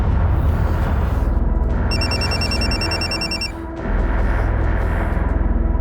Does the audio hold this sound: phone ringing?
yes